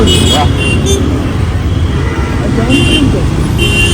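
Dense Bangalore street traffic roars close by in a constant loud wash of engines, with several short car and auto horn toots rising over it and people talking through the din.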